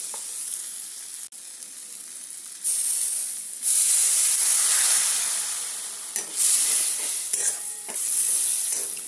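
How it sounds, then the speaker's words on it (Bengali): Water hits a sizzling snake gourd kofta curry in a pan, setting off loud bursts of hissing steam that swell, drop back and surge again, with a few clicks and stirring noises between them. "দু কাপ মতো জল দিয়ে দিলাম।"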